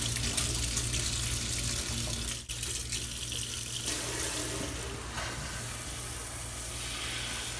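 Water runs steadily from a faucet into a sink, a continuous splashing hiss with a brief dip partway through, close by and fairly loud.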